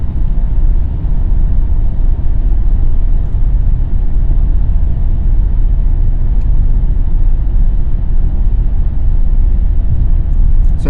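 A car drives along the newly opened Manawatu road between Palmerston North and Woodville, a steady loud low rumble of engine and tyre noise with no breaks.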